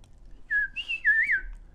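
A person whistles softly to imitate a little mouse in a children's story, giving two short rising and falling whistle phrases, clear and close with no talk over them.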